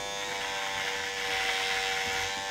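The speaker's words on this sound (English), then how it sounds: "even though these are cordless mini clippers, just to prove a point to you guys, his hair is extremely thick." Cordless mini hair clippers cut through very thick hair, a steady close electric buzz with a strong whine that stays even throughout, with no talking.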